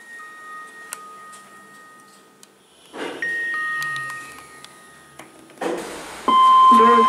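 A lift chime sounds in the Fairway Centre, Newcastle: clear sustained electronic tones ring near the end over faint background hum and a few soft clicks.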